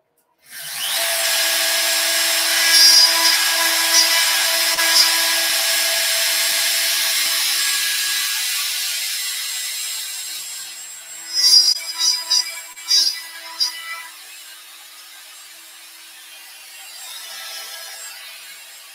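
Carving machine routing pockets around the corners and deep holes of a wooden dovetail box lid in a workshop: a loud steady high whine with brief rhythmic bursts of louder cutting partway through, tailing off at the end.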